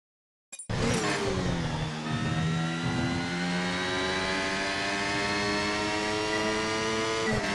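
Formula 1 car engine in the F1 Mobile Racing game, starting abruptly after a brief silence and then holding a loud, high, continuous whine as it climbs steadily through the gears on a qualifying lap in Montreal, with no talk.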